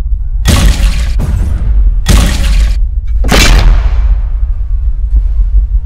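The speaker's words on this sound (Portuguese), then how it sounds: "olha o barulho de explosão, velho. Lá em cima." Explosions during an earthquake in GTA 5, three heavy booms with shattering crashes, each loud and close, the last one trailing into a long rumbling decay.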